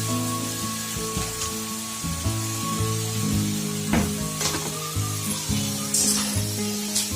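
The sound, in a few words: onion and fresh coconut frying in a pan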